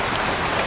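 Rain falls as a dense, constant hiss of drops, with no break or change in intensity.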